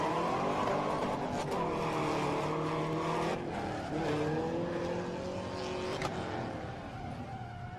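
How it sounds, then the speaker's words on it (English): Drift car tires squealing at a Red Bull Car Park Drift event in Muscat, Oman, a loud continuous screech with wavering pitch over roaring engine, steady and close throughout. "Smoke and squealing tires."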